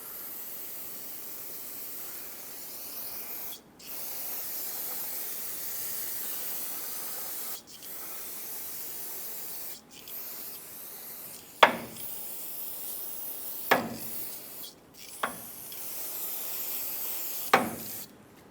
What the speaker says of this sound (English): Rinse it down with brake parts cleaner.